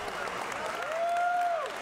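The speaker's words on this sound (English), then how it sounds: "Let's have a big round of applause," Crowd clapping and cheering for two fighters in an MMA cage after a heel hook submission, steady applause throughout with a rising whistle or sung tone riding over it midway.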